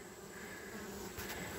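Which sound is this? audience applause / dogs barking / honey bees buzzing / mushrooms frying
honey bees buzzing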